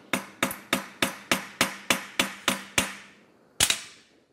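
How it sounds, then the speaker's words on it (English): A hammer taps the red-hot melted end of an oversized metal spoke to form its head, ten sharp ringing strikes in an even rhythm, then a pause and one final blow. "I'll tap it with a hammer."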